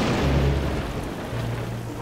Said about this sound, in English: Gotta get them out of this rain.